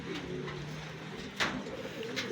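Racing pigeons back home after a derby race give soft, low cooing close by, a short murmuring call over a faint background hum.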